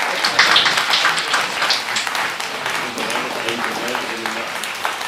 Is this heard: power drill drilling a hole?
no